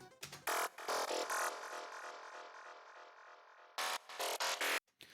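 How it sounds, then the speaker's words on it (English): A gritty, metallic FM synth loop plays with bursts of bright, noisy tones around a longer sustained buzzing stretch, then cuts off abruptly. "And I have this FM loop."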